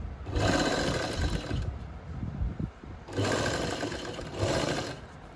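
A sewing machine stitches a buckram collar in two close, loud bursts of rapid whirring separated by a short quiet pause with light handling noise.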